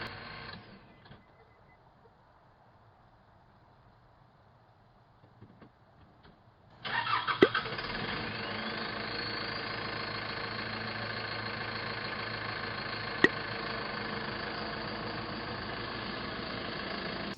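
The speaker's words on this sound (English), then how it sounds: "Of the UPS stopping at my house at 7:30, and then driving off again, not delivering anything" A UPS delivery truck stops at a house. After several quiet seconds its engine suddenly starts, then holds a steady, fairly loud idle-like drone that continues to the end.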